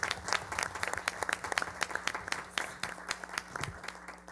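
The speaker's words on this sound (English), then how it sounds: "if we can just give him a round of applause" A room full of people at a city council meeting breaks into a round of applause, a dense patter of many hands clapping at moderate volume for several seconds over a low steady hum.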